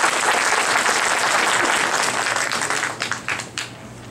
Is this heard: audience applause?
yes